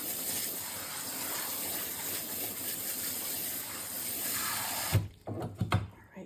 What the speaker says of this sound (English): So I'm just going to water this here.